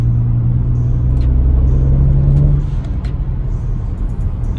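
A BMW car fitted with a Burger Motorsports pedal tuner accelerates, its engine giving a deep, loud rumble that rises and then eases off. No voices are heard.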